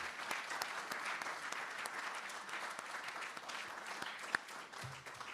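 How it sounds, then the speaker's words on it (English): Steady applause from an event audience honouring Bob and Harry of Flag 146, fairly faint and distant, with dense clapping that holds evenly for the whole stretch. "So a final round of applause for Bob and Harry."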